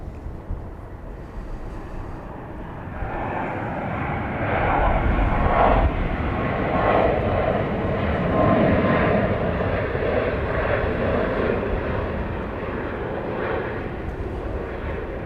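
A fixed-wing airplane landing at Dallas Love Field, a steady jet-engine roar that swells in the middle as it passes, with wind buffeting the microphone throughout.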